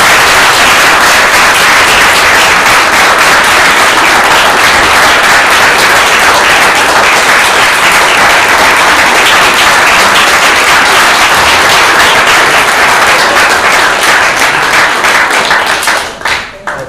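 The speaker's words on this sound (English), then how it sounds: "Let's give him a round of applause." Loud, close applause from the audience at a mock trial competition semi-final, continuous dense clapping that tapers off abruptly at the very end.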